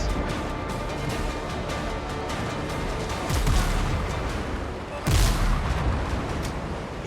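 Ship cannons firing in the video game Windrose, with a steady rumbling bed of battle noise broken by two heavy booming blasts, the second the loudest, and no talking.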